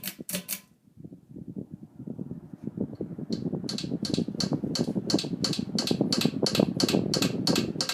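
A 1987 Halsey 52-inch ceiling fan turns on high speed with a steady whirring drone, while its blades tick against the screws in a rapid, even clicking rhythm. A few sharp clicks come first, then a brief hush before the motor spins up.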